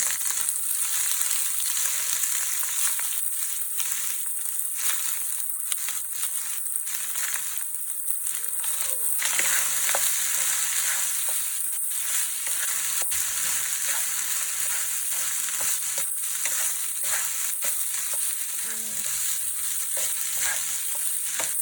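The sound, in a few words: frying and tossing cooked basmati rice with cumin in a pan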